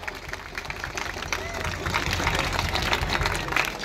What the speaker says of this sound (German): Vielen herzlichen Dank und einen ganz großen Applaus.